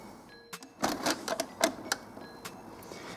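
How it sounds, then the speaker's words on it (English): An Epson XP-342 inkjet printer shifts its ink carriage into position, giving a short run of clicks and mechanical whirring bursts with a few sharp ticks, fairly close and with no talk. "your printer will now move the carriage into the correct position"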